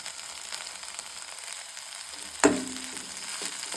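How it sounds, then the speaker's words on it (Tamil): Okra frying in a pan is stirred, giving a soft continuous sizzle with one sharp scrape or knock of the utensil partway through, then quieter shuffling. "இது கிளறி விட்டுருவோம்."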